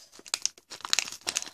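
Plastic packaging on a set of photo cards is torn and crinkled open in a quick run of sharp, close rustling bursts with brief pauses between them.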